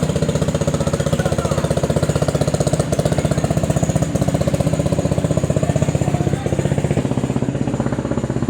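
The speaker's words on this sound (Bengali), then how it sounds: "ওয়াও, দেখতে পাচ্ছেন স্পিড বোট চলে যাচ্ছে।" A speed boat's engine throbs loudly and close by with a fast, steady mechanical pulsing that holds constant over several seconds.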